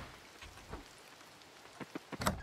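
Rain falls in the cosy farming game Coral Island, a soft steady patter with scattered louder drops near the end, quiet and with no talking.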